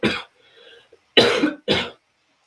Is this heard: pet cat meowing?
no